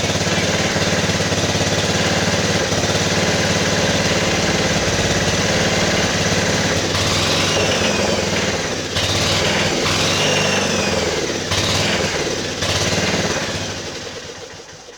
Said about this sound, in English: Let's try giving a little more throttle here.